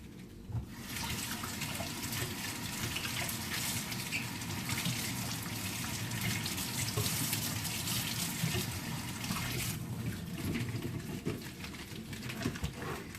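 Tap water runs steadily onto a whole cabbage being rinsed under a kitchen faucet, a continuous close splashing gush that fills the whole stretch with no talk.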